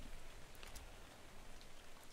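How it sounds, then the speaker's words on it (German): Steady, faint rain falls outdoors in the survival video game ARK: Survival Evolved, an even hiss of drops with no thunder and no voices. "Aber wartet mal, es regnet draußen."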